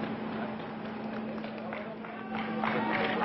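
A crowd greets swimmer David Popovici on his arrival at the airport with steady, moderately distant applause that swells toward the end, mixed with crowd noise and a steady hum.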